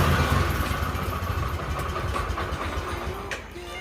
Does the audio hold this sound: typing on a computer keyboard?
no